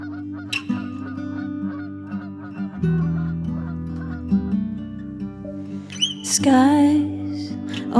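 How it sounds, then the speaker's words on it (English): Geese honking in North Norfolk, with a clear cluster of calls rising near the end over sustained instrumental chords. "geese go high and over"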